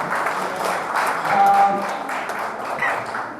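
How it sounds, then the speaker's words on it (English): Audience applause for the Food Corporation of India at an Azadi Ka Amrit Mahotsav event in India, a steady crowd clapping that holds for several seconds at moderate loudness. "So a big applause to FCI for"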